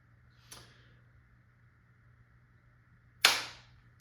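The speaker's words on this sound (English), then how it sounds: "I'm gonna dry fire a whole tank" Two sharp pneumatic pops from a Valken M17 less-lethal marker dry firing on a 1000 PSI air tank, a faint one followed about three seconds later by a louder, nearer blast with a hissing tail, over a low steady hum.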